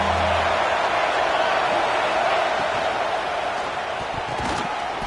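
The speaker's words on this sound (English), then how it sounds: "The Buckeye crowd alive on third down." A packed Ohio State Buckeyes football stadium crowd roars steadily on a third down late in the first half, a dense, unbroken wall of noise.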